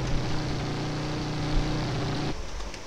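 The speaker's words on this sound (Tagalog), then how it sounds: "Rinig nyo na yung ingay ng motor." A steady, droning motorbike engine hum in GTA San Andreas Multiplayer holds at a constant pitch for a few seconds, then drops off abruptly near the end.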